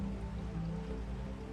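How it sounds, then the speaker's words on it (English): Rain pouring steadily in a video game, a dense even wash of falling drops heard alone for a brief moment. "It is raining."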